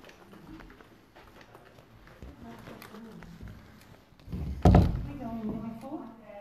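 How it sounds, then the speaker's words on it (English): Amid quiet background chatter and shuffling, a door in the old Aradale Mental Asylum opens with a single heavy thump near the end, followed by a faint creak. "I just opened that door."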